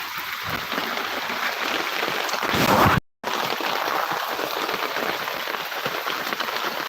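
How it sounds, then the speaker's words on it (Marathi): Heavy monsoon rain in Konkan pours in a dense, continuous roar with a brief cut to silence midway, then the downpour resumes just as loud. "पाऊस तर भरपूर आहे"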